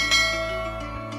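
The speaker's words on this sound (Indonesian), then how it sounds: "lonceng notifikasinya" A notification bell chimes once, ringing with a bright metallic tone that sustains and slowly fades, heard clearly with no voices over it.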